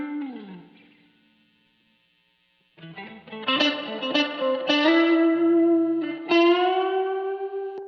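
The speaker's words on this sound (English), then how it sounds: "So I'm using the spring reverb to kind of give it a little bit more of a width" Spring reverb from the AIR Creative FX Collection 2 plugin widens a sustained synth or guitar-like tone: a swelling chord fades out, falls silent, then returns as bright, layered notes with a shimmering, metallic tail, with no voices.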